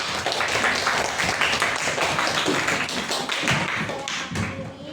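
An audience bursts into applause at a school coaching session, giving a dense, steady patter of many hands clapping close by for several seconds before it begins to thin out.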